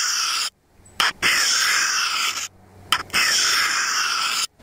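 A knife sharpened at too steep an angle, with the blade drawn along a sharpening stone in three long, loud rasping strokes separated by brief pauses, heard up close and alone.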